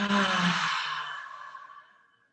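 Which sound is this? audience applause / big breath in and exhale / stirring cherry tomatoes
big breath in and exhale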